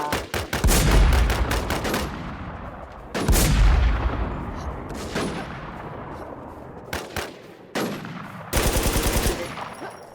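Heavy bursts of gunfire from an M107 in a first-person shooter game, loud and close, arriving in several separate volleys with short pauses between them and a dense rapid burst near the end, with no talk.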